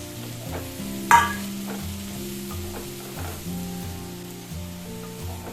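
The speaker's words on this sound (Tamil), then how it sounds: "சேர்த்துட்டு நல்லா வந்து வதக்கிடலாம்." Sliced mushrooms sauté in melted butter in a pan, with a soft, steady sizzle and occasional stirring scrapes that sit under continuous background music.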